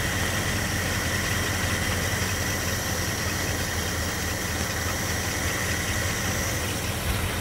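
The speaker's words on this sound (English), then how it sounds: "We'll now readjust the idle speed to bring it back closer to 600 RPM." A car engine idling steadily after a carburetor idle-speed and mixture-screw adjustment, a loud, even, close-up hum with constant vibration and no talk.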